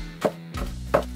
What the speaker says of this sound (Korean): 먼저 써는 재료, 대파